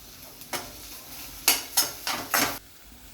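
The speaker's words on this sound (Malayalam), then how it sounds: "അതിനുശേഷം വതക്കുക നല്ലോണം." Salted ingredients for a potato fry are sautéed in a pan. A handful of distinct scraping stir strokes land over a soft sizzle, close and fairly loud.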